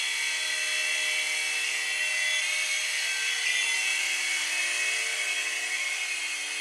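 A Litehawk Mini 3-channel RC helicopter flies with a steady, high-pitched whine from its small electric motor and rotors. The sound is close and even, with no talk over it.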